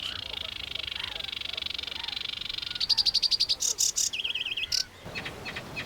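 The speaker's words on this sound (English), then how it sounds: "Male sedge warblers and reed warblers, just back from their arduous migration to Africa," Male sedge warblers and reed warblers sing in reed beds, a rapid churring chatter at first, then louder bursts of varied trills, whistles and repeated chirps close by, with no talking.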